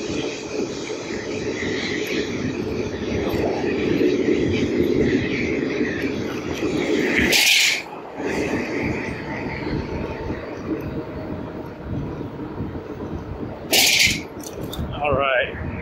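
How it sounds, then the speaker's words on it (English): A train passes by outdoors on a snowy day, a continuous loud rumbling roar lasting throughout, with two short sharp bursts partway through. "Sounds like a train coming."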